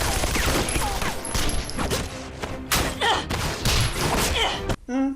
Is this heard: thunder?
no